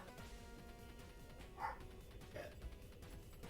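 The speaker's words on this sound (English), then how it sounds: "Dog barking because she's on top of my bed." A dog barks a couple of times indoors from on top of a bed, the short yips standing out over a steady background hum of game audio.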